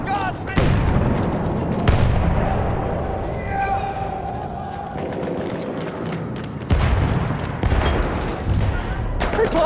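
A grenade going off in the Battlefield 1 video game at Fort de Vaux: loud, heavy booms hit amid continuous rumbling battlefield gunfire, with voices shouting over the din.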